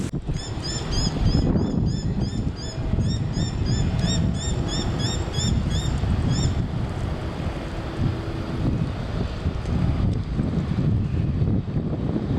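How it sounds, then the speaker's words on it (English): Steady breeze outdoors buffeting the microphone, producing a continuous low rumbling roar throughout, with faint high bird chirps over the first half. "I have wind noise reduction on because it is a bit breezy here"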